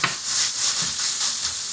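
Beef sizzles and fries in a hot stir-fry pan as it browns, a steady bright crackling hiss with soft stirring scrapes, close and without talk.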